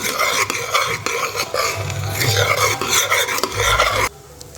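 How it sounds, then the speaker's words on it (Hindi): Washed rice stirred into fried onions in a pressure cooker, a loud, close, rhythmic scraping and grainy rustling of a spoon against the metal pot that stops abruptly near the end. "अब जो ये हमारे चावल हैं इसको मैं अपने प्याज के अंदर इस तरह से मिक्स कर देती हूँ"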